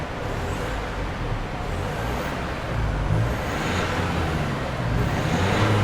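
Exhaust of an Isuzu MU-X 1.9L diesel with a modified pipe, revved in steady pulses, a deep continuous rumble that swells slightly louder in two steps, quiet-toned rather than harsh, heard alone without talk.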